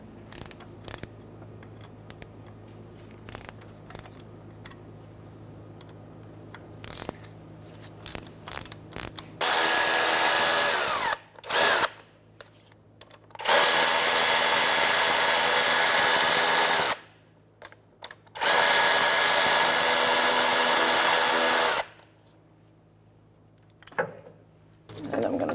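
Air pump mounting bolts on a 2005-2010 Chevrolet Cobalt being loosened with a 13mm socket on a power ratchet, several loud whirring bursts separated by pauses, preceded by quiet clicks and handling noises.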